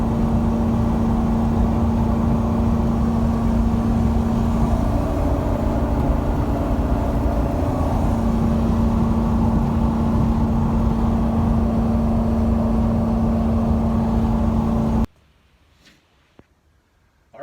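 Inside a truck cruising on an expressway at over 70 mph: a loud, constant road and engine drone with a steady hum runs for about fifteen seconds, then drops abruptly to near silence.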